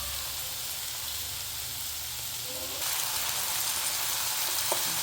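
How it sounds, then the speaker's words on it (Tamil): Onion, tomato and grated coconut sauté in oil in a pan for a chicken gravy, giving a steady close sizzling hiss that grows louder and brighter partway through, with no voices. "இப்போ இந்த வெங்காயம் இப்படி வதங்கிட்டு பார்த்தீங்களா"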